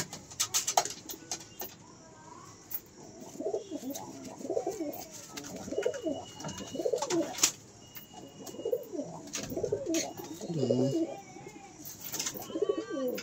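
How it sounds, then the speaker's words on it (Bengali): Several Giriraj pigeons coo repeatedly in low throaty rolls, close by, with occasional sharp clicks and rustles in between. "সুন্দর কোয়ালিটি পায়রা।"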